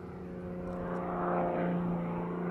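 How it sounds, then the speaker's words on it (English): An aerobatic propeller airplane flies past, a steady droning engine hum that swells slightly louder toward the middle and stays prominent throughout. "But aerobatic planes are designed to fly upside down."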